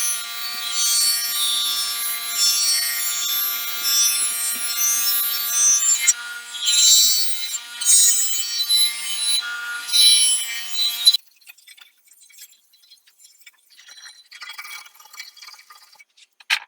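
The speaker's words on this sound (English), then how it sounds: "I've decided I'm going to move on to my 8-inch bench polisher here." An 8-inch bench polisher with a Scotch-Brite wheel rubs against a metal 2-stroke exhaust pipe, a close, bright scuffing hiss with uneven pressure that stops abruptly, leaving near silence.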